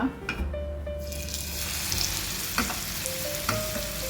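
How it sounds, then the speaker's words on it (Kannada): Marinated king fish frying in hot ghee in a pan: steady crackling sizzle throughout with a few sharp clicks and clatters of utensils, close and fairly loud. "ಈಗ ತುಪ್ಪ ಬಿಸಿ ಆಗುವಾಗ ನಾವು ಮ್ಯಾರಿನೇಟ್ ಮಾಡಿದಂತಹ ಕಿಂಗ್ ಫಿಶ್ ಹಾಕುವ"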